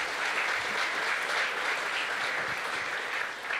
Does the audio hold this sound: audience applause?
yes